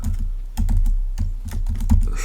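Fingers tap out code on a computer keyboard in quick, close, uneven bursts of clicky keystrokes with brief pauses, with no voice.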